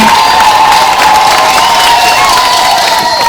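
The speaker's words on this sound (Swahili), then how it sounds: "Pigia Mungu makofi kwa mapadri wetu na padri wetu pia" A church congregation applauds the new priests in a dense, loud, continuous wash of clapping and cheering, with a high ululating trill running through it.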